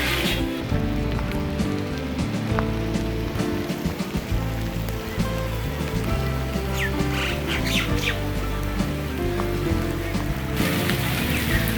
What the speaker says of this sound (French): On est bien sous la pluie.